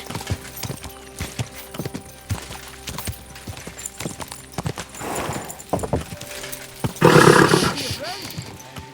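A horse's hooves clip-clop in uneven rhythm in the medieval video game Kingdom Come Deliverance II, sharp clicks over a quiet drone, then a loud snorting burst of breath near the end; someone speaks over it.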